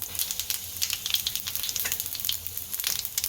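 Mustard seeds, cumin and asafoetida crackle and sizzle in hot oil, a steady close hiss with fine popping spread across the whole stretch, no voices.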